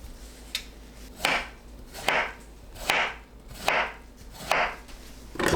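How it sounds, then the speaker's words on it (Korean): A knife chops peeled steamed beets on a cutting board, six evenly spaced crisp thuds about one per second, close and clear with no talking. "믹서에 갈기 좋게 썰어주세요"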